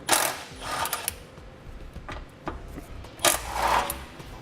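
Ratchet with a 13mm socket loosening hanger bolts on a trailer hitch, quick clicking bursts in short irregular runs with pauses, close and moderately loud, no talking.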